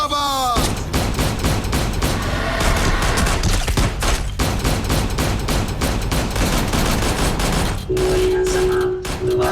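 Sustained, loud gunfire from a Hindi-dubbed action movie: a dense, continuous fusillade of shots with booms and rattling bursts that fills the whole stretch, with a tonal hum entering near the end.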